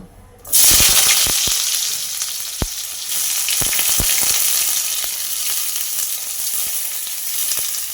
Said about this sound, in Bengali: এবার এর মধ্যে আমি ঝিঙেগুলো দিয়ে দেব